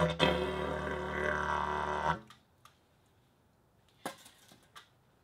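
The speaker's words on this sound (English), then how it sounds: "So I took the concept of a didgeridoo, which is an Australian instrument." A dense, droning didgeridoo tone buzzes for about two seconds, then cuts off, followed by a few faint clicks and taps.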